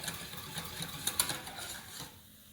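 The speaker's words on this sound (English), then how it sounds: "I'm bringing this up to the boil, and I'm continually whisking it" Cheese sauce for savoury pancakes being whisked continuously in a pan as it comes to the boil, heard as rapid, close, rhythmic metallic ticking strokes that fade out near the end.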